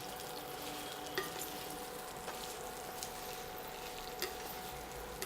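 Fried atta gatte being tossed with spice masala in a pan, a faint soft sizzle with occasional light clicks of a spoon against the pan.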